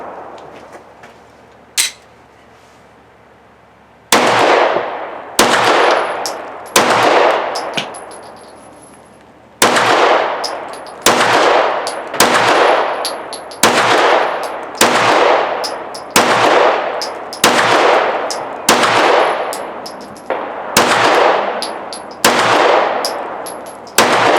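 A Ruger RXM 9mm pistol, a Glock 19 Gen 3-style handgun fed from 15-round P-mags, fires a long string of loud, sharp, close-range shots at a steady pace, each crack ringing out briefly, with no talking.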